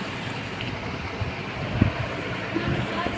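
Wind gusts outdoors during a heavy rainstorm, a fluctuating low rush and buffeting noise with a brief thump partway through, no speech.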